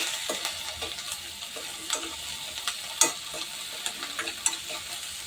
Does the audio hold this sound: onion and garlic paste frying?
yes